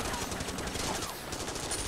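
Rapid automatic gunfire from Like a Dragon: Infinite Wealth rattles continuously and loudly throughout, a dense unbroken stream of shots.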